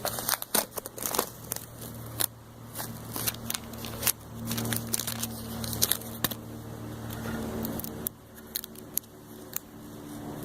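Silhouette vinyl die-cut stencil being peeled off a board while the paint is still moist, giving a run of crackling, sticky tearing and sharp clicks close by, with a steady low hum underneath.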